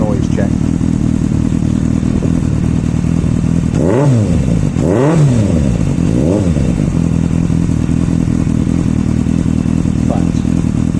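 Motorcycle engine idling steadily and close by, with a few sharp revs rising and falling in the middle, under loud steady noise.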